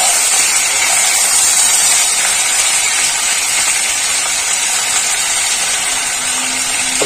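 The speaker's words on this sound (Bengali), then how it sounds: "নাড়াচাড়া করবো।" Hill greens salted and stirred in a frying pan make a constant loud hiss, like a broad steady rush with little variation.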